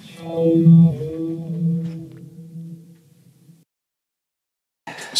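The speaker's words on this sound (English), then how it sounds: "Now we have the Old Blood Noise Procession reverb" A sustained, swirling electric guitar chord drenched in reverb, its tail sweeping and flanging as it fades into silence before a brief new strum.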